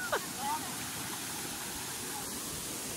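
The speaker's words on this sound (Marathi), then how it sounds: "सर्वे आदगावच्या पुढे हा धबधबा आहे" Hidden waterfall beyond Adgaon near Shrivardhan, a steady broadband rush of falling water with a brief whistle-like sound near the start, otherwise even and unbroken.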